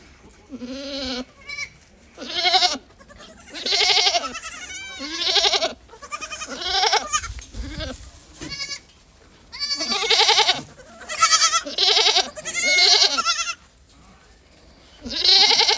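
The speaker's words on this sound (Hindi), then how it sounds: "अब मैं अपने बकरों को आपको खिलाकर दिखाऊँगा" Goats bleat repeatedly and loudly at close range while being fed a jaggery and oil mixture, the harmonic, wavering calls coming in quick bursts with short pauses between them.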